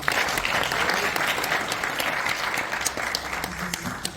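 Congregation applauding a pastor at a Christian prayer breakfast, a dense, steady wash of clapping from many hands throughout, loud and fairly close.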